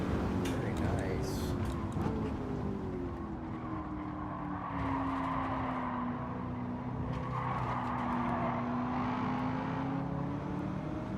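Race cars in Gran Turismo 7 hold a steady engine whine that rises and falls while one chases a slipstream, with a constant car-noise backdrop and a voice talking over it.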